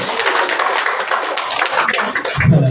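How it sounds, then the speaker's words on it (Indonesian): A group applauds a child, with dense, continuous clapping from many hands, loud and close, fading toward the end as a voice begins. "Kasih tepuk tangan untuk anak saya."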